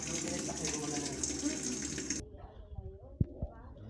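An automatic washing machine fills with water during a deep clean, a steady rushing flow that cuts off partway, followed by quiet clunks and knocks with faint voices in the background.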